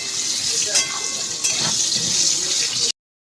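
Potato pieces frying in hot oil with salt and turmeric, a steady close sizzle and hiss with a couple of sharp crackles, ending abruptly.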